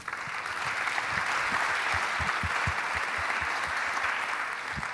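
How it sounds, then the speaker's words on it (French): A congress audience in a hall applauds steadily, dense clapping from many hands holding at an even loudness throughout, with no speech over it. "Vous pouvez aussi les applaudir."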